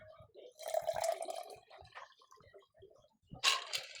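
Water poured into a glass during a mukbang meal, a short trickling splash heard under ongoing casual talk, with a brighter burst near the end.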